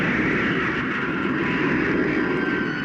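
A spacecraft motor in a radio drama lunar landing roars as a steady, loud, broadband rushing drone with a faint high whine, continuous and alone.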